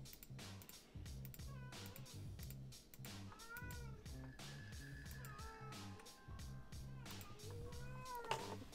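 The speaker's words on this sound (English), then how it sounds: "My cat literally is sounding like she's dying right now." A pet cat yowls and meows repeatedly indoors in long, wavering, drawn-out cries, fairly close, over a steady low rhythmic background hum.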